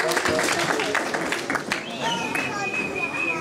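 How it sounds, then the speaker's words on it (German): An audience at a televised boxing gala claps and cheers, a dense burst of applause with crowd noise, while a voice speaks over the final part. "Und ich bitte mal um einen kleinen Applaus oder auch einen großen."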